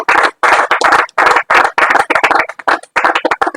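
An audience at an award ceremony gives applause in honor of Doctor Adolphe Lukusa, with loud bursts of clapping that start and stop in uneven waves.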